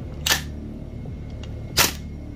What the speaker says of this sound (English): I will shoot it, release the bolt, shoot it, release the bolt, and then until it stops